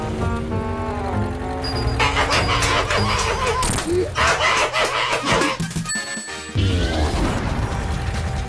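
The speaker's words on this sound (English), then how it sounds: "Chickens!" Cartoonish chicken clucks and a rooster crow mixed into a loud, dense Sonic Mania animation soundtrack, layered with clattering mechanical sound effects and music that fill the whole stretch.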